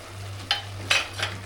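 A spoon stirs urad dal cooking with turmeric powder, making three soft, close scraping strokes over a low steady hum and gentle simmer.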